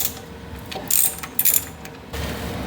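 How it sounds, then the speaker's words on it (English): A ratchet turns out the oil pan bolts on a Ford 351W engine, giving short bursts of clicking with brief pauses between them, close up, with no talking. "Now we're just going to take off all these oil pan bolts"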